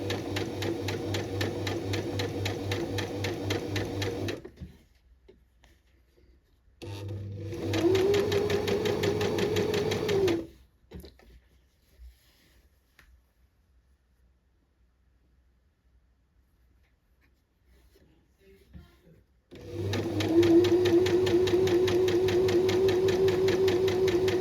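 A sewing machine stitches a hem on a shirred dress in loud, steady whirring bursts, stopping and starting with quiet gaps between runs.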